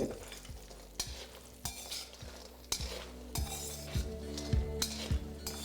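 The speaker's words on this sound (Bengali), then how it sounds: "বড়িটা দেওয়ার পরে এটাকে একটু লাল লাল করে আপনাদের ভেজে নিতে হবে" Lentil dumplings (kalai dal bori) fry in hot oil in a wok, with a soft steady sizzle and repeated sharp clinks of a spatula stirring against the metal pan.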